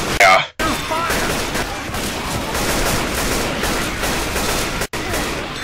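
Continuous automatic gunfire rattles loudly in Left 4 Dead, sustained bursts filling nearly the whole stretch with only brief gaps, while a player's voice is heard faintly beneath.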